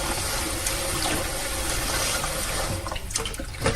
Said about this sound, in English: you're going to use cold water to wash it first.